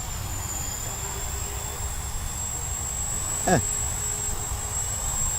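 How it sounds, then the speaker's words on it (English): A small radio-controlled helicopter, a cheap-electronics T-Rex clone, flies nearby with a steady high-pitched motor whine and a faint rotor hum, with a brief louder swoop midway. "Nice flying little heli."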